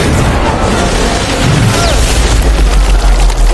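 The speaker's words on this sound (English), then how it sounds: "it's not thunder, just the sound of lightning." A booming lightning strike effect lands as a heavy, loud low crash with a crackling burst. It is mixed into dense music that stays loud throughout.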